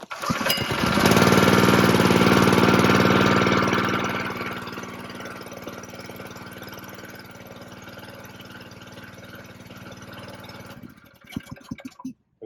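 A brush truck's pump engine runs loudly from a manual start, roaring then dropping to a steady lower idle, and cuts off near the end.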